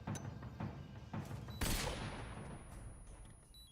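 Stun grenades going off in Metal Gear Solid 3, a few faint snapping pops followed by one brighter, louder burst that fades away, with no voices.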